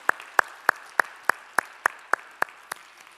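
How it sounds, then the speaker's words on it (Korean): A church congregation claps in unison during a Sunday worship service, with about ten sharp, evenly spaced claps in a steady rhythm, each one crisp and distinct, with no voices over them. "우리 찬양을 받으실 주님께 영광의 박수 올리겠습니다"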